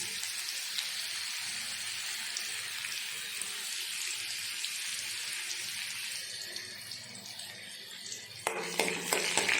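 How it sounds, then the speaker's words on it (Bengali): Chopped ginger fries in hot white oil with cumin seeds in a wok, making a constant close hiss and crackle, unvoiced, with a few clattering stirs toward the end. "আদা কুচি একটু ভাজা ভাজা করে নিয়ে"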